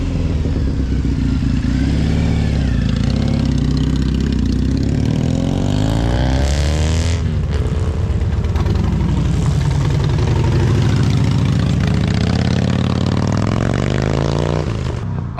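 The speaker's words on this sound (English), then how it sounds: "there's just so many motorbikes coming by" Motorcycles at a farm motorcycle gathering idle and ride past, a loud continuous engine rumble that swells and fades as bikes pass close by, with no talk.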